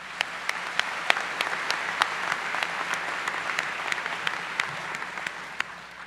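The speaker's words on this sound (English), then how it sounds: "I think that this merits a round of applause." Applause from an audience at a high school graduation ceremony, steady dense clapping with a few sharp louder claps standing out, filling the whole stretch without voices.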